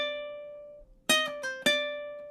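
A ukulele lick: a sustained plucked note, then a quick double pull-off and a final bright pluck ringing out, played solo and close with no talking.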